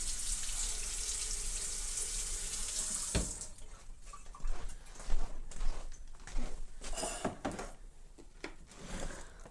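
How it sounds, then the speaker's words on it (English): Water runs from a kitchen tap over the top of a pinto bean can, a steady loud hiss that breaks off into uneven splashing and clattering as the can is turned under the stream. "So let me just rinse the top of this can here."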